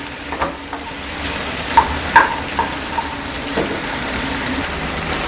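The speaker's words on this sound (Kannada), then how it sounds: "ಇದು ಚೆನ್ನಾಗಿ ಫ್ರೈ ಮಾಡ್ಕೊಳ್ಳೋಣ ಎಣ್ಣೆಯಲ್ಲಿ" Cut okra (ladies finger) dry-frying in oil, a loud continuous hiss and sizzle with a few clinks and scrapes of stirring early on, no one speaking.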